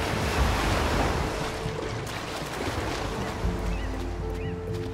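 An ocean wave surges and crashes in the video game Unravel, a loud, broad rush of surf and wind that stays constant for about five seconds.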